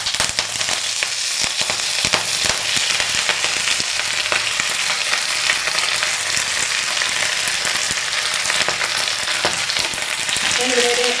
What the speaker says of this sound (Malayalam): ഇനി നമുക്ക് എടുത്ത് വെച്ചിരിക്കുന്ന മുരിങ്ങയില ഇട്ട് കൊടുക്കാം